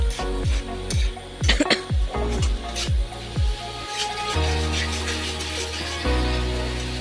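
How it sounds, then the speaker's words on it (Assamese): Rohu fish coated in spices is stirred in a hot pan, with rhythmic scraping strokes of a spatula over a steady close sizzle of frying. "মছলাখিনি দিয়াৰ পিছত আকৌ অলপ সময় লৰাই দিব"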